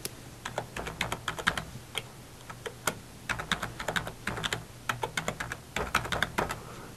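An email address being typed on a computer keyboard: quick, close, irregular bursts of key clicks with short pauses, no voices.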